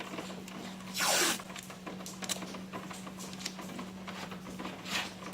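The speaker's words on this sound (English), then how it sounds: "So you just get a couple of pieces of tape, just like so." Strips of adhesive tape are pulled off the roll while fixing the taillights on a Porsche 996: one loud rasping rip near the start, then quieter tearing and handling sounds under a steady low hum.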